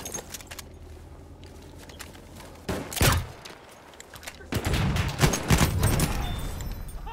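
Gunfire in the video game Battlefield 1 multiplayer: sharp bursts of shots, a loud isolated crack followed by a denser rattling volley, with mechanical clatter and scattered impacts between.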